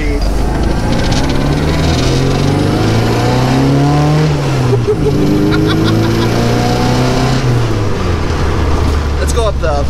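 A 1992 Rover Mini British Open Edition drives along with its engine droning loudly and rising and falling through the revs, while a voice talks over it.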